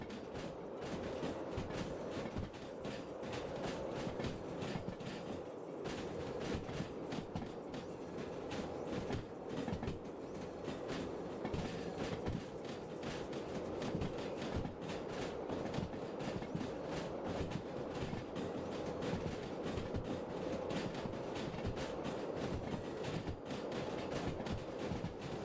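Freight train rolling along the track in the Derail Valley train simulator game, a steady loud rumble with continuous wheel clatter and clickety-clack running throughout without pause.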